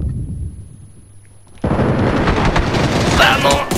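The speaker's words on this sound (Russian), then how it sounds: "О, граната." A grenade goes off in PUBG, a sudden loud blast at mid-clip followed by sustained roaring, crackling debris noise over quieter game ambience.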